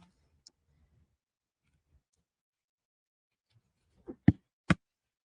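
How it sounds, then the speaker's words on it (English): A few sharp snips of craft scissors cutting plastic close by after near silence, three quick cuts in a row. "I'm going to cut down the little plasticky thing on the back."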